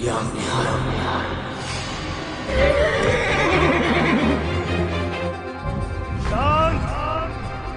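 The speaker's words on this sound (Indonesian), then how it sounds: "Seekor kuda mengamuk di halaman istana." A horse neighs and whinnies in a palace courtyard, several loud, shrill whinnies rising and falling over rumbling background sound, with a final whinny near the end.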